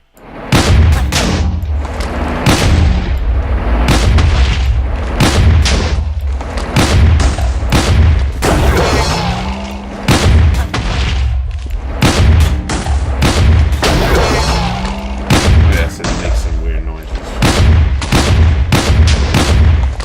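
Explosions from a TF2 mod in the Minecraft video game, a rapid series of loud, sharp booms and blasts in irregular rhythm, close and dense, with no talking.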